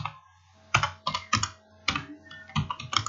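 Keys clatter on a computer keyboard as text is typed, close and crisp, in short irregular bursts of several strokes separated by brief pauses, with no voices.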